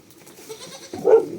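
Goats at feeding time, a soft low murmur that gives way to one loud, close, wavering bleat near the end.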